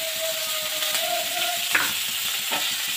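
Onions fry in hot oil with garlic and 3-4 green chillies, a steady close sizzle with light stirring clinks and no voices over it.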